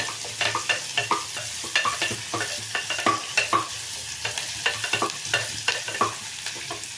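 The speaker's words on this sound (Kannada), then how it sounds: "ಈರುಳ್ಳಿ ಚಂದ ಫ್ರೈ ಆಗಿ ಸ್ವಲ್ಪ ಬಣ್ಣ ಚೇಂಜ್ ಆಗಿ ಇದ್ರದ್ದು" Sliced onions fry in a pressure cooker pan while being stirred, giving a steady sizzle broken by a run of sharp, regular scraping clicks from the spoon, close and fairly quiet, with no voices.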